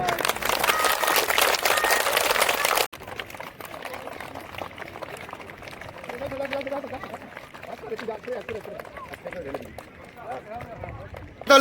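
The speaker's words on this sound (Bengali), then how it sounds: "একসঙ্গে সজোরে করতালি দিয়ে সম্বর্ধনা জানাবো।" Audience at a 44th annual sports meet bursting into loud, dense applause to welcome the start of a torch race, lasting about three seconds before fading into crowd murmur and speech over a PA.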